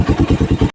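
A 2017 Suzuki Raider Reborn motorcycle with a 28mm round carburetor, revving in six quick, even pulses of loud, close engine bursts before cutting off abruptly.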